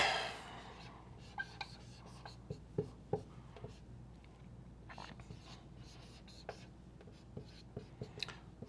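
Marker or chalk on a board, with a brief erasing rub at the start followed by irregular short taps and strokes of writing, fairly quiet and close.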